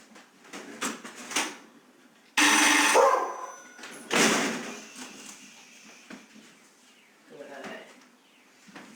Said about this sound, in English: I'm going to go ahead and ring the doorbell. They'll probably freak out for a second